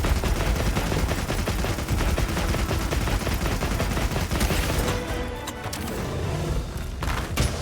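Dense, loud gunfire fills a fight in IronHunter Wilds, rapid overlapping shots and bursts like machine-gun fire with booming impacts, continuing almost without pause throughout.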